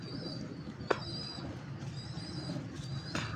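A pet breeding pigeon coos softly in low rumbling tones, close by, with a couple of faint higher chirps from other birds nearby.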